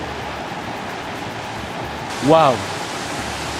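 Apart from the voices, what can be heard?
spectacular waterfall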